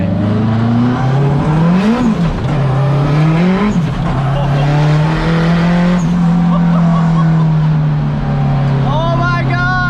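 Boosted K24-powered EG Civic with a sequential gearbox, straight-cut gears and a clutch-pack diff, accelerating hard through several gear changes with a loud rising engine note that drops at each shift, continuous and close up.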